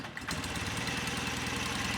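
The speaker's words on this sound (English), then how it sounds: "You can hear the idle pick right back up." BMW motorcycle carburetor engine with a spark plug wire just reattached, its idle rising from a very low, lumpy rumble into a steady, faster chugging beat that runs on evenly, close and alone.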